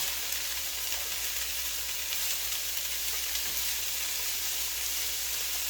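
Bean sprouts stir-frying in a hot pan, a continuous bright sizzle with occasional stirring and tossing noises, steady and close.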